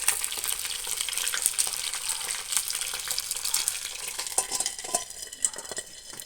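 Sudai fish frying in a covered pan, a steady dense sizzle and spatter running throughout with occasional sharper pops, close and fairly loud, no voices.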